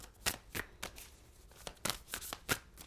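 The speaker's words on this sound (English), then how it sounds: "I'm going to shuffle the cards" A deck of tarot cards is shuffled close by, with several crisp riffling bursts coming at an uneven rhythm.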